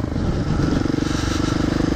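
A Husqvarna 701 motorcycle with a loud unbaffled exhaust blares close by, a dense, throbbing low rumble held steady over gravel.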